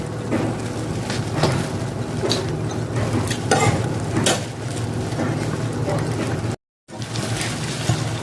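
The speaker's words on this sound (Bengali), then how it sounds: "দেখুন জল একদম টেনে নিয়ে চরচর আওয়াজ হচ্ছে পাতা পুড়ছে" A banana leaf parcel of shrimp and taro stems sizzles and crackles in a pan as the water cooks off, a steady close hiss with bursts of spatter, briefly cut to silence near the end.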